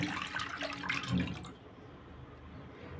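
Milk and water pour into a cooking pot for about a second and a half, a close, gurgling liquid stream that cuts off and leaves only a quiet room hum.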